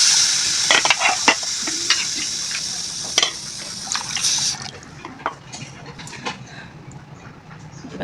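Semolina being stirred into milk in a pan, with wet stirring and sloshing plus clicks of a spoon against the pan, close and fairly loud, with a faint sizzle under it and no talking.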